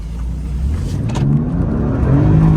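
A BMW M3 F80 pulls away with its engine revving up in pitch, loud and close, the exhaust note rising steadily over about two and a half seconds.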